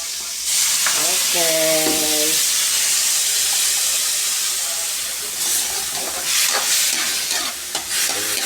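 Bitter gourd frying in a pan as water is poured in, giving a loud steady sizzle and steamy hiss throughout, with brief stirring scrapes and a single short spoken word near the start.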